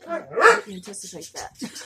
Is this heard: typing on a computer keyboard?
no